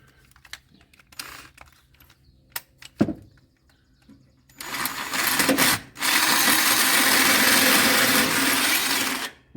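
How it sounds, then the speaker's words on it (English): A drill fitted with a 90-degree adapter bores through a metal bumper on a Polaris Ranger, with cutting oil on the bit: scattered knocks and clicks first, then a loud, sustained grinding whine that runs steadily for several seconds with a brief pause. "So I'll be able to get in there and drill that."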